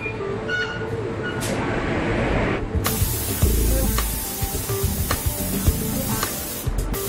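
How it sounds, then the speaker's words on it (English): Spray gun hissing paint onto a Koenigsegg Agera supercar body part in the factory, a broad continuous spray that cuts in partway through with bursts and stops, over workshop background noise. "Only when it's flawless will paint be applied."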